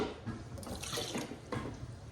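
Water is poured into an emptied tomato can to rinse out the last bits for a Louisiana gumbo. It comes as a close, gentle trickle and splash in uneven bursts, with a few louder gushes.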